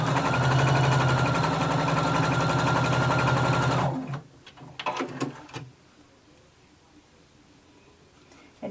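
Sewing machine stay stitching a garment neckline, running steadily and loud for about four seconds, then stopping, followed by a few soft handling clicks and near silence.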